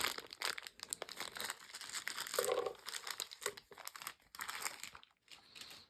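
Dragon Dice packaging is opened by hand, with crisp, irregular paper crinkling and tearing close up for several seconds, busy and continuous with a short pause near the end.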